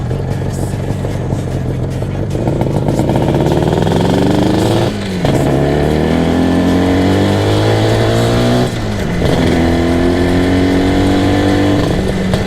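An IZh Jupiter 400cc two-stroke motorcycle fitted with two carburetors is ridden hard, its loud, raspy engine climbing in pitch through the gears with two brief dips at the shifts, recorded close on board.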